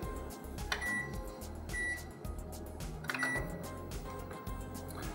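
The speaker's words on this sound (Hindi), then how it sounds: "So what I will do is I will use heirs microwave, built-in microwave." A Haier built-in microwave oven in a kitchen gives short electronic beeps, a few scattered tones over a low hum of background noise.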